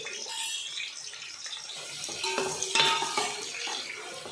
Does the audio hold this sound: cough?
no